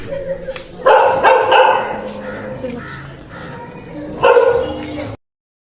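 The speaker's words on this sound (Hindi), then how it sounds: "डॉगी हमें देख के इतने ज़्यादा बोलना शुरू हो गए" Several tied-up dogs bark excitedly at visitors behind a palace's servant quarters, loud close yaps in bursts with a bird cawing nearby and people chatting over the noise.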